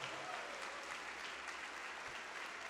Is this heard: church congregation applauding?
yes